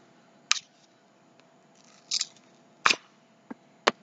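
Small strip of adhesive tape peeled off a helping-hands tool at a workbench while tuning bagpipes, a few faint, short crackling rips spread over several seconds in a quiet room.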